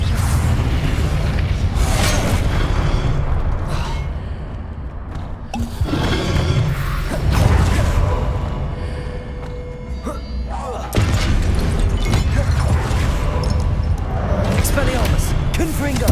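Confringo fire spells going off as repeated booming explosions in the video game Hogwarts Legacy, heavy thuds and whooshes recurring throughout alongside a voice calling out spell names.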